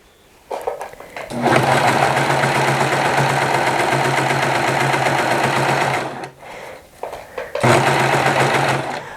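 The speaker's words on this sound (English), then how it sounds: "And now we're going to start serging it." A serger overlock machine stitches a scrunchie in close, loud bursts of fast, buzzing whir, starting after a brief pause, running steadily for about five seconds, cutting out briefly, then resuming.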